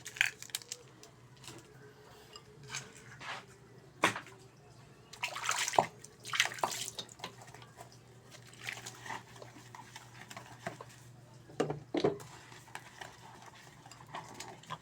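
Dishes being hand-washed under running water: intermittent clinks and clatters of plates and utensils over splashing and a low steady flow, close up, with no talking.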